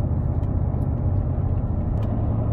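A BMW cruises in fifth gear along a road, its engine and tyres making a steady, close low rumble and whir that holds even throughout, with no talk over it.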